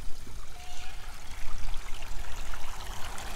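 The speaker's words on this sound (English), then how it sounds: "It's like a little babbling creek" Water overflowing ice trickles and babbles steadily nearby, a continuous splashing flow like a small creek running over stones.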